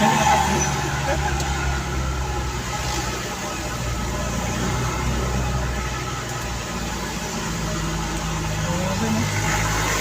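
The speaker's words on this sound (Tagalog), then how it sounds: "Lakas ng truck nila." Heavy truck engine labouring uphill on a mountain road toward Baguio, a loud continuous low rumble with a steady drone throughout.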